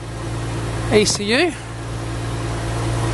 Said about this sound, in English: because we're running on the flushers, I don't want to leave it idling too long